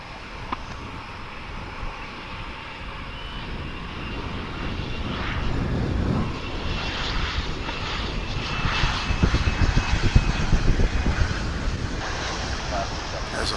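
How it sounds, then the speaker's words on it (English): American Airlines airliner at Dallas/Fort Worth International Airport, its jet engine roar building gradually from moderate to loud and broad as the aircraft passes, with a voice talking over it. "This is American Airlines Flight 2720, which will be winging its way to Tucson,"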